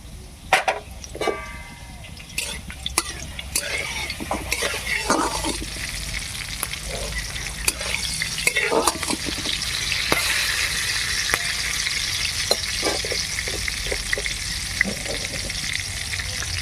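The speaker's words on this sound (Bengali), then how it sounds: "এবারে দিয়ে দিচ্ছি কালো জিরে আর 3টে কাঁচা লঙ্কা, একটা শুকনো লঙ্কা, এটাই ফোড়ন।" Black cumin seeds with green and dried chillies crackle and sizzle in hot oil as a tempering, close up, with scattered pops and spoon clicks over a steady frying hiss that grows fuller toward the end.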